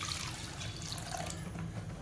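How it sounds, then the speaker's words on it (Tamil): Water pours steadily into a pot while making Tamil gooseberry rasam, with a continuous splashing rush, close by and even in level throughout. "இதில் கொஞ்சமாக தண்ணி வந்து ஊற்றிக்கிறேன்"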